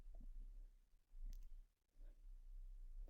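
A computer mouse clicks a few times, faint and brief, over a low steady hum in a quiet room.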